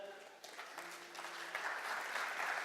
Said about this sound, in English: can we try a supporting applaud?